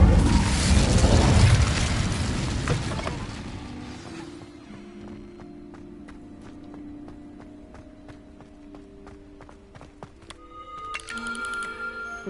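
A fire spell cast in the video game Hogwarts Legacy: a loud, roaring whoosh of flame that bursts at the start and fades over about four seconds, leaving a quiet tonal game ambience with light clicks and a small return of noise at the end.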